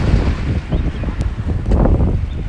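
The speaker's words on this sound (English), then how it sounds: "It's very windy today." Strong outdoor wind buffets the microphone in uneven low gusts, a continuous rumbling roar with no voices.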